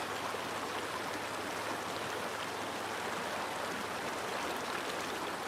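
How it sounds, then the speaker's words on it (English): Stream water flows steadily through Montana woods, a continuous broadband rush with no breaks, fairly close and heard alone. "that water noise. Oh, peaceful."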